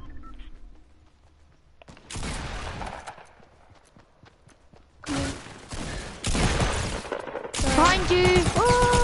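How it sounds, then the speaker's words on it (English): Bursts of rapid SMG gunfire in Fortnite, loud, close clusters of shots with quieter gaps and footsteps between, the firing growing denser toward the end. "I just heard SMG bullets."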